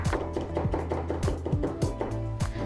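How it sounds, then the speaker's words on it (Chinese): A knife chopping garlic cloves into fine bits on a board, with quick, steady, close thuds in an even rhythm and no voices. "几个蒜瓣剁成碎末"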